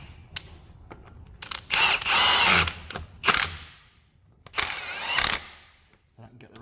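Power tool whirring in two loud bursts to run bolts into the rear axle hub of an Iveco 75E15 horsebox, with quieter clicks and handling noise between and after.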